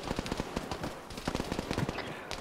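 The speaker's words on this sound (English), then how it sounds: "I am being heavily suppressed by a machine gun of the heavy variety" Heavy machine gun fire in Arma 3, rapid bursts of sharp, punchy shots in an irregular rhythm, moderately distant and fairly quiet, with no talk over it.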